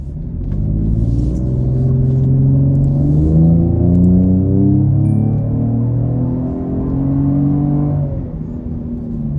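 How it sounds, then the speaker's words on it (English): A deep, steady rumble from a Steeda aftermarket exhaust on a Ford Explorer ST drones throughout as it drives, rising and falling slightly with engine revs, loud and close. "this is equipped with the Steeda exhaust, and it is quite a bit of an improvement from a sound standpoint"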